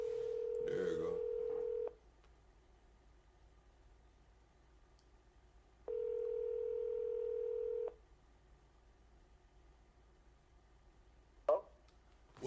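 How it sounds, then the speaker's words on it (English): Two long steady telephone dial tones, each about two seconds, separated by quiet line noise, followed near the end by a brief click, as a call to Chicago fails to ring through. "I'm trying to call Chicago. It's not even ringing."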